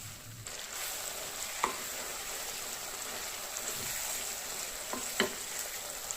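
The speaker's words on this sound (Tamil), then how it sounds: "நல்லா கிளறி விட்டுக்கணும்." Chicken gravy with the oil separating at the surface, stirred in a pan under a steady, fairly soft bubbling sizzle, with a few distinct scrapes and taps of a spoon against the pan.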